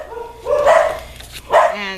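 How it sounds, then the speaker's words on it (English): Dogs indoors bark twice in quick succession, loud and close, with a whiny, yipping edge between the barks. "The dogs have been barking."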